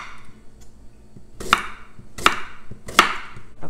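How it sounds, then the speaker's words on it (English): A knife cuts through sweet potatoes on a board, trimming the ends and slicing them. Three crisp, separate chops land about three quarters of a second apart over a low, quiet background, with no talk. "you're just gonna cut the ends off of the sweet potatoes and then cut them in slices"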